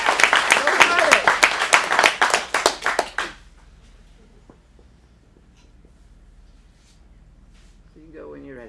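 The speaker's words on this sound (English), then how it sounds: "Give it a round of applause." Audience applause at an adult script showcase at an acting studio in Phoenix: a loud, dense burst of clapping for about three seconds, then a quiet room with faint voices near the end.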